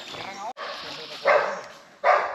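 Puppies on a farm yap and bark in short, loud bursts near the listener, with a pause between the barks.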